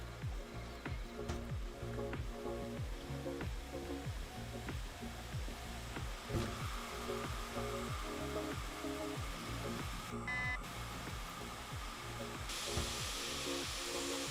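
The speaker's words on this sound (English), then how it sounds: "there's a whole ton of steam like in the chest" Steady dense hiss of steam in a locomotive steam chest in the Derail Valley train simulator, continuous and fairly loud with a rhythmic chuffing pulse beneath and a brief higher burst near the end.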